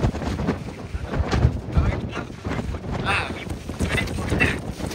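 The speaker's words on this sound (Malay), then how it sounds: "Dengan angin yang kuat lagi." Strong wind buffets the microphone on the summit of Gunung Datuk, a mountain around 2,000 metres high, roaring and gusting steadily and loudly throughout.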